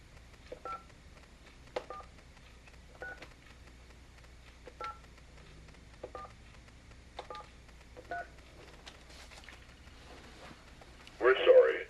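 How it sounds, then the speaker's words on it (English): A telephone keypad dials a number as a series of separate short touch-tones spaced about a second apart, clear and close, followed at the end by a louder burst of tone from the line. "I'm going to make my first phone call."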